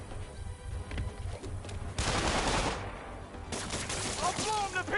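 Bursts of gunfire in the Marvel's Spider-Man video game, loud overlapping shots and impacts mixed with game effects, with short voice sounds in the mix.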